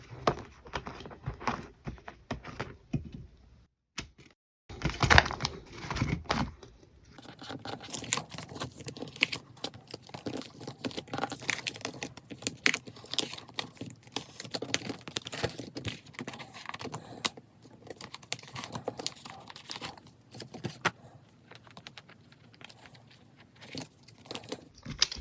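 Plastic pages and photocard sleeves of a binder being handled and clipped in, a quiet run of close, dense crinkles, taps and snaps lasting throughout, with a sharp louder clack early on and no talking.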